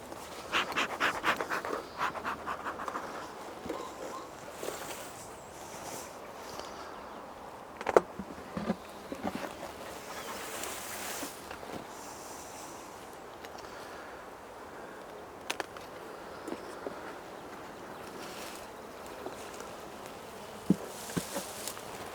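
Honey bees buzz at an open hive during an inspection in Norfolk, a soft, shifting hum with occasional nearby flybys and faint handling clicks.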